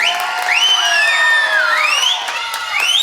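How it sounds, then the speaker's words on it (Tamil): A crowd at a birthday welfare event for party leader Vijay cheers with rising and falling whoops and shouts, several voices overlapping loudly and continuously for a few seconds. "மீண்டும் மீண்டும் நம்முடைய தலைவரை நாம் கரகோஷப்படுத்தி வாழ்த்துவோம்"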